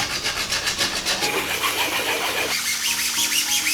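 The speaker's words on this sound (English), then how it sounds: "Once the epoxy has cured, I can sand the surface some more to smooth it out." Cured epoxy on a 3D-printed part is sanded by hand, giving close, rhythmic rasping strokes that scrub back and forth, then settle into a smoother rub.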